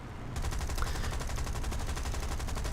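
The wing-mounted machine guns of a Hawker Hurricane Mk. I, armed without cannons, fire in War Thunder, producing a rapid, continuous rattle of shots that starts abruptly and stays loud and even throughout.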